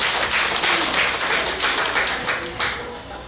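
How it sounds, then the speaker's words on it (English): Applause from the audience at a child development workers' training workshop: a dense, steady wash of many hands clapping at moderate loudness that carries on for a few seconds, with no voices over it. "Let's give her a round of applause."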